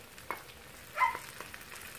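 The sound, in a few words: ground meat and eggplant simmering in a pan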